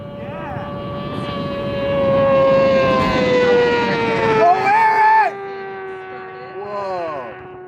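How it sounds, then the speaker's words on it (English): Land speed racing motorcycle engine screaming at high revs and bouncing off the rev limiter, a loud whine with stuttering pitch surges passing by outdoors while people talk nearby. "She's on the rev limiter. Hear that?"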